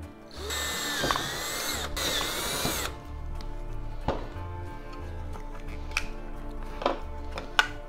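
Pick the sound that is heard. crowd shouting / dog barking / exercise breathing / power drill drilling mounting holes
power drill drilling mounting holes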